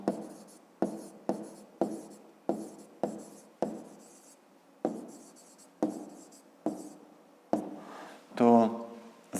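Pen writing numbers on paper during a fifth-grade maths exercise, a series of about a dozen short scratchy strokes in a steady rhythm, close and fairly loud, ending with a brief voiced sound.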